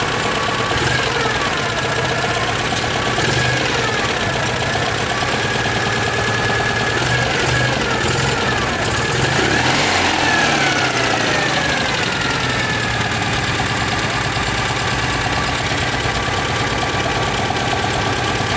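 Citroën 2CV engine running with a throttle that is not shutting off properly, a steady buzzing drone held at a raised idle with a slight rise and fall in pitch midway, close and constant with no talk.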